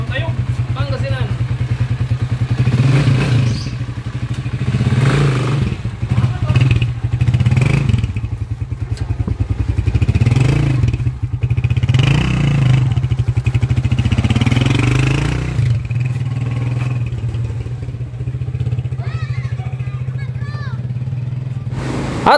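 Motorcycle fitted with a 200cc engine conversion on a test ride near Tayug, Pangasinan, its engine droning steadily with a low hum throughout, rising and falling slightly, heard up close over wind rush and some rattling.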